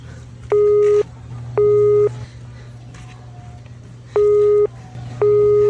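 A telephone busy signal sounds in repeated short beeps with gaps between them, loud and clear over a low steady hum, with no talking during the tones.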